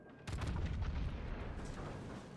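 A sudden loud boom of naval gunfire from the ARP Yamato ship in a video game, a heavy blast that rumbles and slowly fades over a couple of seconds.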